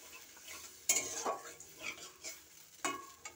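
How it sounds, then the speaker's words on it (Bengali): Fish curry masala being stirred after water is added, for a chandana ilish curry: a few soft scraping and clinking strokes of a spoon in the pan with some quiet sizzling, fairly close, with no talk. "জল দিয়ে এটাকে নাড়াচাড়া করে দেবো।"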